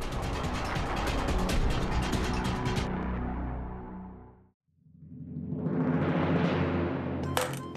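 A car roars past at speed close by, its engine noise building and fading, then after a brief silence another vehicle sweeps by loudly, ending with a sharp mechanical rattle.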